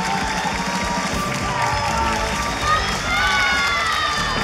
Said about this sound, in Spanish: que sigue el aplauso